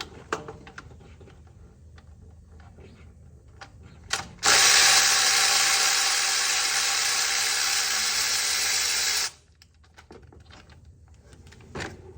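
Power tool spinning bolts out of a 3rd-gen 5.9 Cummins diesel engine during a water pump replacement, a loud steady whir lasting about five seconds with quieter shop clatter before and after.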